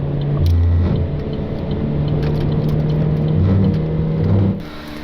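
A car accelerating to pass another car on the road, its engine note rising and falling from inside the cabin as a loud, steady rumble with tonal revving that eases off toward the end.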